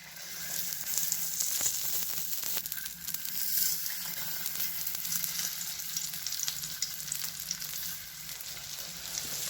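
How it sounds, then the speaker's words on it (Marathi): Alu vadi frying in hot oil on a flat tava, a steady, soft sizzle and crackle that holds for the whole stretch with no voices. "तेल गरम झालंय. वडी एक एक एक एक करून तव्यात ठेवून घेऊया."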